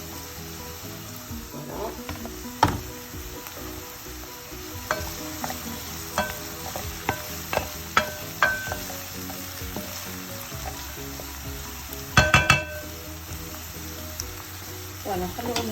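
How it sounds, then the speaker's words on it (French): Bell peppers and bay leaves sizzle in a frying pan with a steady hiss, broken by scrapes and clicks of stirring, while a voice speaks briefly nearby. "Là, on va rajouter nos poivrons avec les lauriers"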